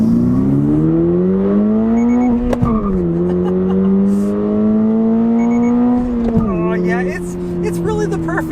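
A 2022 Toyota GR86 sports car accelerating hard, the engine note climbing steadily through the revs, dropping briefly at a gear change near the middle, then rising again, loud and close throughout.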